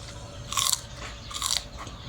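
Two crisp, close bites into raw crunchy cabbage eaten with Isan-style khanom jeen and grilled catfish curry, each a short crackling crunch about a second apart, over a quiet background.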